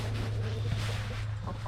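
A hen clucks softly in a backyard over a constant low hum, a few brief murmuring clucks scattered across the moment, fairly faint.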